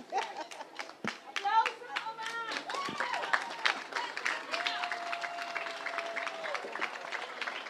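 Applause and cheering for a music performer at a children's music week closing event in Curaçao, clapping under ongoing talk and children's voices, with a sustained sung or played tone in the middle.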